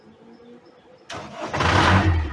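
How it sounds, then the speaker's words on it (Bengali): A car engine cranks and catches about a second in, then settles into a loud, steady running rumble close by after a quiet lead-in. "গাড়িটা এখন স্টার্ট হয়েছে"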